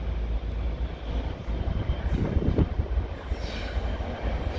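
A freight train rolls through Lincoln Central station, a loud, steady rumble of wagons and wheels that swells briefly midway, with a faint rising whine toward the end.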